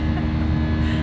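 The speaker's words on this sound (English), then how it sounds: "a sound when we go from taking off to the airplane leveling out" Steady low engine drone inside an airliner cabin as the plane levels off after takeoff, a constant rumbling hum with no break, loud and close throughout.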